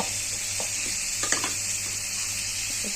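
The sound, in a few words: onions and green chilies frying in a kadai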